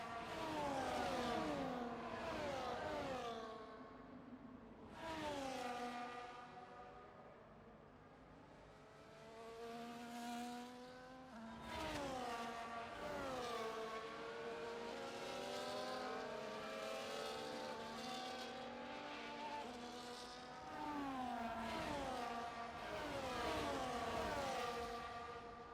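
CanAm race cars on blue full-wet tyres at Las Vegas: several engines whine past in succession, pitch rising and falling as each car sweeps by and revs through gears, fairly distant and steady throughout.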